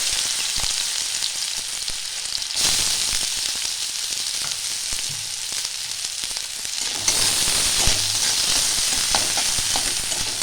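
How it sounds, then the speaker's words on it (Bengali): One large chopped onion fries in two to three spoons of oil for an aloo chop filling, with a continuous close sizzle that swells louder at times as it is stirred, and no talking. "হালকা করে আমি ভেজে নেব পেঁয়াজটা।"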